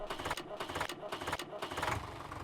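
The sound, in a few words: tractor engine starting, Farming Simulator 17 video game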